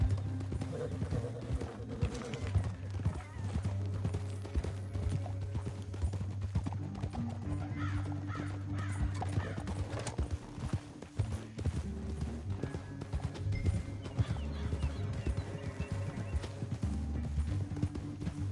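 Steady clip-clop of horse hooves trotting along in the video game Red Dead Redemption 2, continuous and fairly close, with a low background hum and an occasional whinny.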